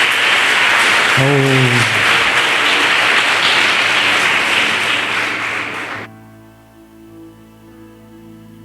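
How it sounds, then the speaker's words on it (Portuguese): A church congregation claps loudly and continuously for several seconds, a single voice exclaiming briefly early on, before the applause cuts off into quiet music. "Você pode aplaudir a Jesus bem forte."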